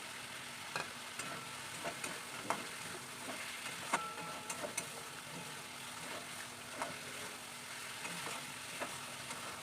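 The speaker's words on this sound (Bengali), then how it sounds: "ভালো করে ভেজে নেব ডিমটা দিয়ে দিলাম" An egg fries in a pan in a home kitchen, giving a soft continuous sizzle with scattered light clicks and taps of a utensil, fairly quiet and without speech.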